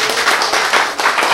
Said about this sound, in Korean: 박수가 절로 나오지